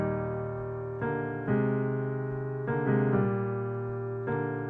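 Jazz piano ballad voicing of O Come All Ye Faithful, rich sustained chords in four-part harmony changing every second or so, played solo and close.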